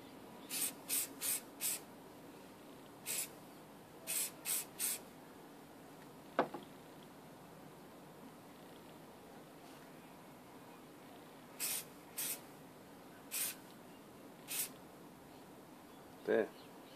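Short bursts of spray paint hiss in quick pairs and singles as a light glossy coat goes onto a model control cabin, close and quiet, with a faint click between bursts.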